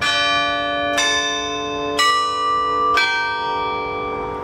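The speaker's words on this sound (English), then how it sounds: "We all get to enjoy the sounds of the Carillon Bell Tower from far below the Scottish Rite Cathedral" Carillon bells at the Scottish Rite Cathedral in Indianapolis ring three clear, evenly spaced strikes, each leaving a long, rich tonal hum that sustains and overlaps with the next.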